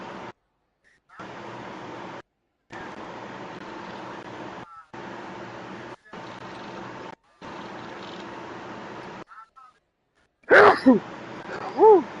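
A single loud, sharp sneeze from a person gaming on an NBA 2K25 MyTeam stream, breaking out near the end over choppy background game sound and talk, followed by a brief voice.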